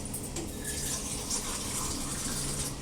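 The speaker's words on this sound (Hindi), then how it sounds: "अब मैं पानी पीऊँगी पहले एक गिलास।" Water pours steadily into a glass in a home, a continuous soft gushing, fairly quiet and even throughout, with no voices.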